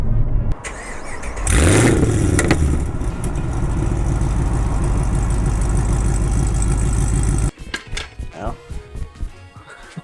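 A modified 2016 Chevy SS V8 exhaust in its quieter neighborhood mode, a steady loud low rumble with a brief rev early on before cutting off abruptly, followed by fainter clatter and speech.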